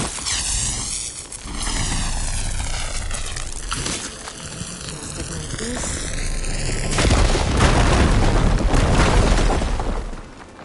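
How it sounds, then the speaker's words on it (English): In Horizon Forbidden West, a fire gleam is blown up with a burst of booming, crackling blasts and debris that swell and hold loud near the end, mixed with whooshing game effects and a voice talking. "Should be able to blow up that fire gleam."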